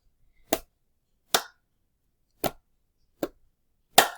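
Five crisp hand strikes, pats and claps in a steady pat-pat-clap rhythm, each a short sharp crack close to the listener with silence between, no voices.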